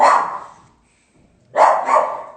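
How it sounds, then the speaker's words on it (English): Two loud barks from a nearby dog, separated by a short pause, the second a quick double woof; no voices. "There's dogs being walked across the street."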